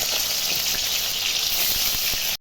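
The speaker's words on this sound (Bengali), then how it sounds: "পনিরগুলো একটু ভেজে নিচ্ছি।" Paneer pieces fry in oil in a kadai, giving a continuous dense sizzle with faint crackles throughout, fairly close and steady until it stops sharply at the end.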